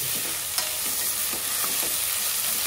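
Fresh ginger and garlic frying in oil in a pan for pabbiyam (kichidi), a close, continuous sizzle with a few scraping stirs and no talk.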